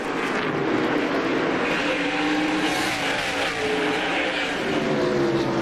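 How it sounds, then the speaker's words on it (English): NASCAR Winston Cup stock cars race at Bristol Motor Speedway during the 2001 Sharpie 500, a continuous, loud engine roar with rising and falling whines as the cars pass close together, heard alone with no talk. "He's right on the back bumper of Dale Jarrett, battle for the 5th position."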